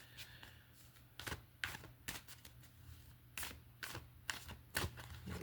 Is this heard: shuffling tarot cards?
yes